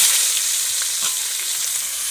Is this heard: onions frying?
yes